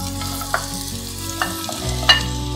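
Onion is tipped into hot oil in a pan and sizzles steadily and close, with a few light scrapes and knocks of stirring and no talk.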